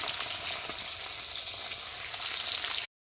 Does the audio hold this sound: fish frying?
yes